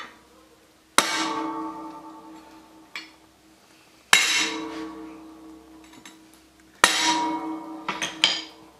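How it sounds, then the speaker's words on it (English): A hammer strikes a steel center punch while a winch mount is being built for a truck stake pocket: three hard, ringing metallic blows spaced a few seconds apart, each leaving a long decaying ring, with lighter knocks in between. "come back with a regular center punch. And give that a good wallop."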